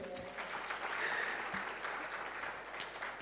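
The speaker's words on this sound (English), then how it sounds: "All right, a round of applause." Audience applause filling a hall at the KNUST Research Week 2023 ceremony in Ghana, a steady sustained clapping from a large crowd that holds evenly for the whole stretch without any talk over it.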